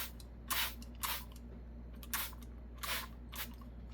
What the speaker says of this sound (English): We're just spraying a little bit on there